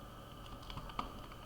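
Computer keyboard keys tapped at a steady, light pace while C++ code is entered in the Dev C++ editor, a few sharper clicks standing out, close and quiet with no voice.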